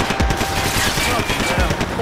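Rapid automatic gunfire in the video game Max Payne 3, loud dense bursts with heavy low thumps, continuous throughout.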